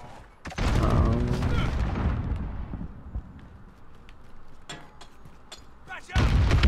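A grenade blows up in the 2019 beta of Call of Duty: Modern Warfare during a 20-player Headquarters match on PS4 Pro. A sharp, loud blast lands early and rumbles into a long fading tail, and a second burst hits near the end.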